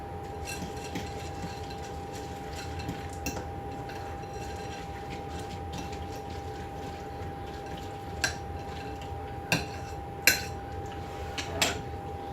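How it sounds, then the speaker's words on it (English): A spoon scrapes and clinks against a bowl as a mixture is stirred, steady soft scraping with a few louder knocks near the end. "I'm going to stir this up a little bit."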